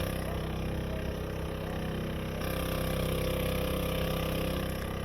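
A cheap small outboard motor, neglected for two years, runs steadily on a boat out on busy water, its continuous mid-pitched drone holding a constant throttle close to the listener throughout.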